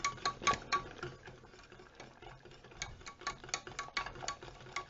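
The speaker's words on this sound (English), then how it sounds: "So mix that, keep on mixing it until it goes thick." Cheese sauce being stirred in a pan with a utensil, giving irregular soft scraping and light clinking taps against the pan, moderately close and faint, with no talking.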